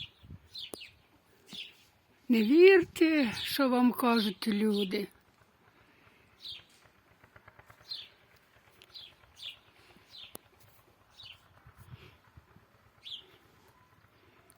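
Small birds chirp in short, scattered high tweets, faint and intermittent, while a person speaks for a few seconds.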